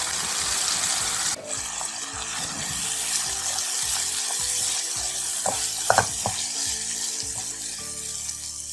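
Shrimp curry sizzles steadily in a hot pan while a spoon stirs it, with scraping clinks and a brief water splash near the end, close and moderately quiet.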